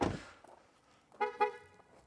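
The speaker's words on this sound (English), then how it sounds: "the car's gonna honk here, just don't mind it." Two short car horn honks from a 2023 Ford Mustang Mach-E in quick succession, fairly close and loud, following a brief clunk at the start.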